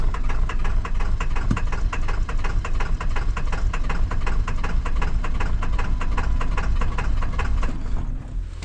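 An engine running after being started on brake cleaner, its steady rapid firing knocking along in a close, loud, even rhythm before easing slightly at the end.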